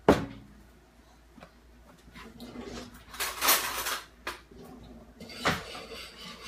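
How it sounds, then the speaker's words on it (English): Dry granola bar ingredients being mixed in a bowl, close scraping and clattering of a utensil against the bowl in uneven bursts, with some louder knocks and no talking. "So I'm mixing all of my dry ingredients here, just like I mixed my wet."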